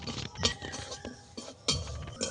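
Semolina dry-roasting in a wok, with a utensil scraping and clinking against the metal in quick, irregular bursts close by.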